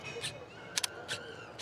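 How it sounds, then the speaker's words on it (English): Four short, crisp shutter clicks from a Panasonic GF1 camera, spaced irregularly across the moment and fairly quiet over a low background hum. "The shutter sound, for example."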